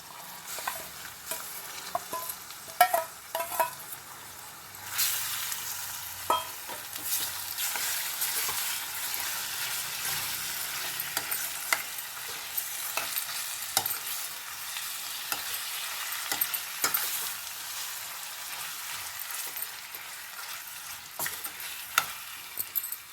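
Prawns for a prawn fry hiss and sizzle in a pan, with repeated scraping and clinking as a spoon stirs them through a long, steady frying sound close by.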